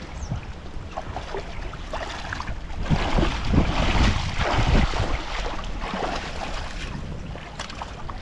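A fast river current rushes past in a broad, continuous roar, swelling louder through the middle, with gusty wind buffeting the microphone close by.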